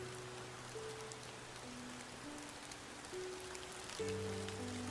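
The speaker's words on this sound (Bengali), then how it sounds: "আকাশ খালো মেঘে ঢাকা ছিল আর হালকা বৃষ্টি হচ্ছিল" Steady light rain patters softly on a surface, a faint continuous hiss with scattered drops and a low hum beneath.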